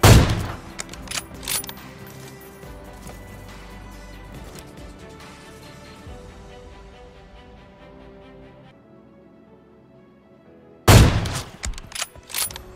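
Gunfire in the PUBG Mobile battle royale game: a loud opening burst of rapid shots, a few scattered reports, then a long fading ringing tail before another sharp close volley near the end.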